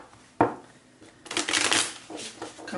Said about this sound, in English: Couple more shuffles here,